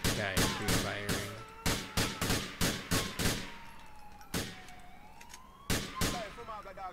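Rapid bursts of gunfire from GTA 4, a dozen or so sharp broadband cracks in uneven clusters, loud and close, with a siren-like wail sliding through the background.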